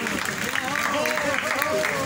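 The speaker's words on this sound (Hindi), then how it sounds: "बहुत बढ़िया, जोरदार ताली रही मेरी" Audience in a lecture hall breaking into loud applause, a dense continuous clatter of many hands with voices mixed in underneath.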